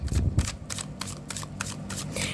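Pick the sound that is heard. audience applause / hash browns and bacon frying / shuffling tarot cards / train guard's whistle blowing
shuffling tarot cards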